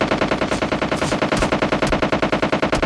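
Automatic gunfire in the battle-royale game PUBG Lite: a loud, unbroken stream of rapid, evenly spaced shots, roughly seven per second, dense and close with no pauses.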